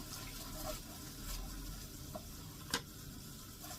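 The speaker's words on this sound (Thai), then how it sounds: "น้ำกะทิ เราต้องผัดให้ อย่างนี้เลยจ้ะ" Coconut milk stir-frying in a pan for a Thai curry with grilled beef, a soft, steady sizzle and gentle bubbling with occasional light clicks of stirring, quiet and close.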